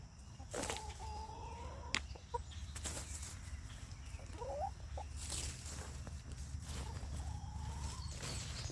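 Chickens cluck and call near an old chicken coop on a homestead that also keeps rabbits, ducks and a turkey, with a few short bird calls over a steady low background rumble.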